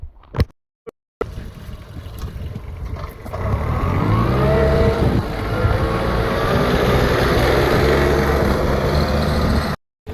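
A couple of sharp knocks, then a small tractor's heavy diesel engine rumbles steadily and loudly close by, straining at a constant low pitch while hauling a load of grapes.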